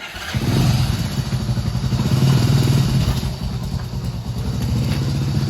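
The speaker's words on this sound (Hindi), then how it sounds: "ये देखो ये बाइक भी लेकर आया है" Motorcycle engine idling close by, a rough throbbing putter that starts abruptly after a brief quiet moment and keeps a steady uneven pulse throughout.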